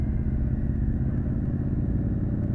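A Triumph Street Triple 765 R motorcycle engine runs steadily while riding in wet conditions, a loud, continuous mid-pitched drone and rumble holding an even note throughout.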